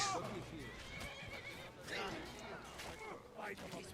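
A horse in the Skyrim video game neighs and whinnies loudly during a combat scene, with hoof clip-clops and game ambience filling the background and a voice speaking over it.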